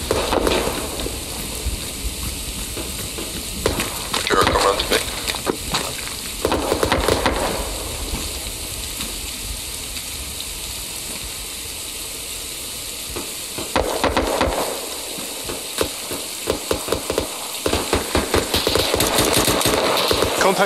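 Rapid gunfire crackles through an Arma 3 battle at a POW compound, with dense bursts of automatic shots coming in waves at varying distances over a constant background rumble.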